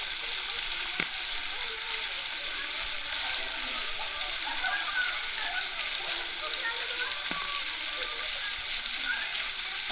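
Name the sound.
waterfall at Bulak Falls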